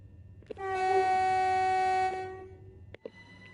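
A train in the Train Sim World 5 game sounds a single sustained horn blast lasting over a second, followed by clunks and a short fainter tone, with no talking.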